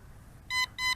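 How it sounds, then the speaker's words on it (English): An RC drone's controller or craft, an MJX B4W or JJRC X11, gives two short, high electronic warning beeps close by, with a quiet background between them. "there's a beeping going on right now"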